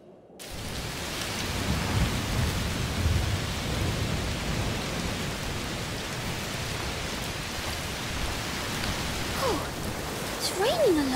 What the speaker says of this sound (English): raining a lot. Yes. Must be a heat storm.